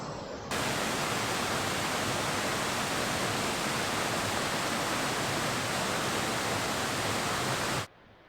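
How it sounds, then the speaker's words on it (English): Small waterfall on the Ben Lomond walk in Scotland, a steady broadband rush of falling water that starts abruptly, holds constant and loud for about seven seconds, then cuts off, with no talking. "Nice little waterfall there."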